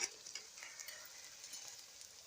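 Bala-bala, Sundanese vegetable fritters, fry in hot oil, making a soft continuous bubbling sizzle that is close but quiet and stays steady throughout, with no talking.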